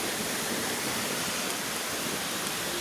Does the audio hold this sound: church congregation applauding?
no